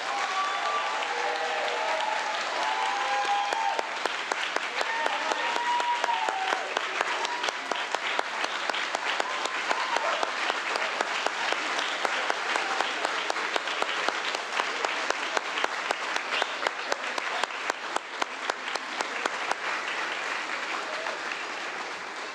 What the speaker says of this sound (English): I believe they deserve a big round of applause.